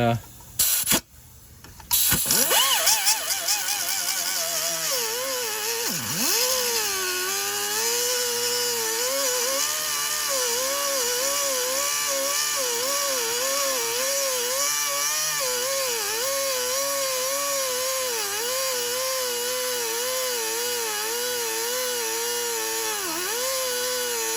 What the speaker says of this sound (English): We're going to come in behind, being careful not to cut the strut at all, but we want to cut that bolt